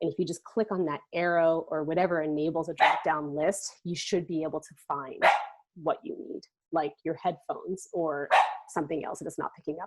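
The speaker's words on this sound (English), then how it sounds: "I'm so sorry about my dog, guys." A pet dog barks and yips intermittently in the background of a home during an online call, with short bursts mixed under a person speaking continuously in the foreground.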